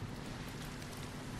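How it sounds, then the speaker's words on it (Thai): Rain in the video game Sifu, a dense, steady wash of falling drops that continues evenly throughout, fairly soft and with no voices over it. "ฝนตก"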